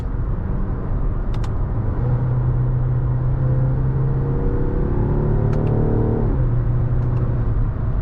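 A 2024 Mazda CX-90 PHEV accelerating in sport mode, heard from inside the cabin as a steady low rumble with an engine tone climbing through rising gear steps, loud and continuous, with faint clicks.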